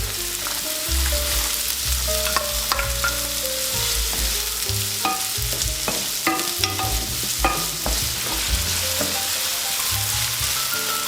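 Scallion and carrot fry in plenty of olive oil in a big pot while a utensil stirs them, giving a steady close sizzle broken by frequent scraping clatters that repeat throughout.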